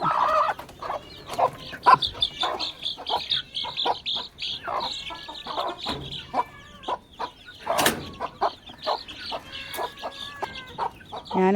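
Hungry chickens cluck and squawk continuously at close range, a busy overlapping chorus of short calls with occasional louder cries, no talking.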